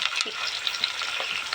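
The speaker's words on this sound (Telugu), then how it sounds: "ఇది కానీ మంచిగా ఫ్రై కావాలి." Curry leaves fry in hot oil in a pan for a spiny gourd curry, a close, steady crackling sizzle with small pops and stirring scrapes throughout, no voices.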